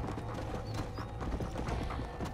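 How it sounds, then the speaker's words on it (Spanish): In a video game set in Mexico, a horse clip-clops along at a steady trot, its hoofbeats clear and close against a background of game ambience. "¡Qué caballito más hermoso el que tengo!"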